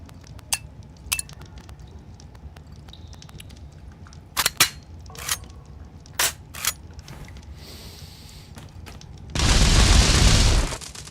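Pixel-style wand gunfire in the video game Untitled Pixel Simulator comes as scattered sharp cracks and pops, some in quick pairs, followed by a burst of loud hissing noise near the end.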